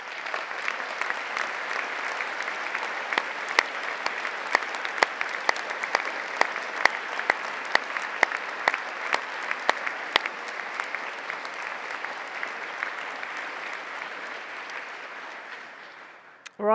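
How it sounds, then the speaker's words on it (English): An audience at the University of Southampton's summer graduation ceremony applauds in a long, steady wash of clapping with sharper individual claps standing out, fading away near the end. "Give them a round of applause"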